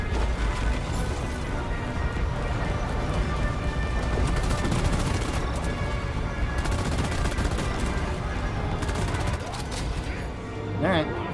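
Enemy gunfire in Deep Rock Galactic rattles in continuous dense bursts with crashing impacts and mechanical clatter, loud and close, while a voice talks over it.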